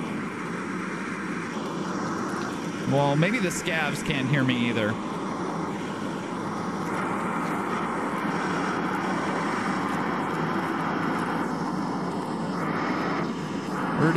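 A loud, droning airplane engine in the video game Escape from Tarkov roars steadily throughout, while someone speaks briefly over it early on.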